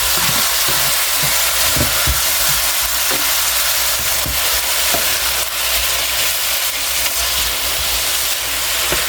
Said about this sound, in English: I'm actually going to throw the onions and the green peppers in with the ground beef to cook